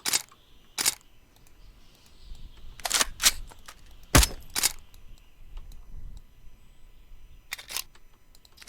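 A bolt-action rifle in the game After the Flash fires several suppressed shots, each a short sharp crack separated by irregular gaps, with the clicks and clacks of the bolt and of handling between them.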